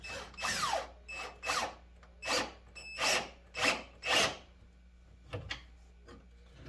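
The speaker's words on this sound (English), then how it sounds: "I'm just starting them to get them close, and then I'll start torquing them down." Stainless steel lag screws being started into a DFG Offroad slider for an ARB fridge, heard as a series of short, whirring power-driver bursts with brief pauses between them, close and moderately loud.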